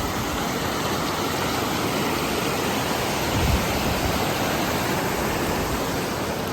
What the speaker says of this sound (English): Big waterfall, snow melt, no big deal.